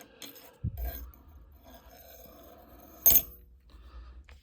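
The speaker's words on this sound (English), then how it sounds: "And then the washer will go on top of that." A metal washer is set onto a stacked rear wheel bearing assembly for a Toyota Tundra before pressing, giving a couple of short metallic clinks and light scraping, quiet otherwise.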